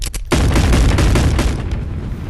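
Revolver gunshots in the video game Animal Company, starting with a couple of quick sharp cracks followed by a loud, sustained burst of blasts that slowly fades.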